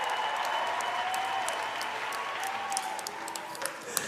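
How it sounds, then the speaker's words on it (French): Sustained applause from a ceremony audience fills the room at a steady level, with a few sharper individual claps standing out near the end. "On applaudit très très très fort"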